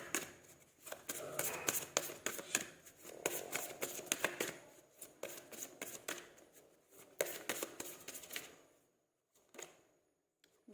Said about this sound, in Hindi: थोड़ी सी और कार्ड्स निकालते हैं गाइस